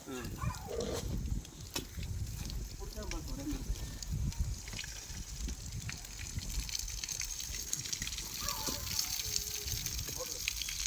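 Water gushes continuously from a newly drilled 260-foot, 5-inch borewell, a loud, steady rushing wash outdoors, with people talking over it throughout.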